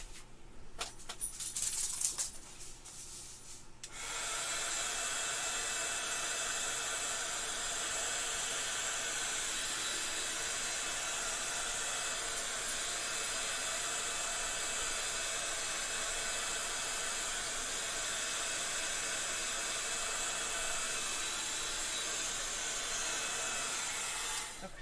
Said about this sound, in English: Come back and hit that really quickly with heat gun.